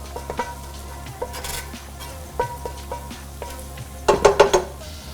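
Bacon grease sizzles steadily in a hot pan while pork tenderloin cooks, with a constant low hum beneath, light scraping and stirring clicks, and a louder cluster of pops and crackles near the end.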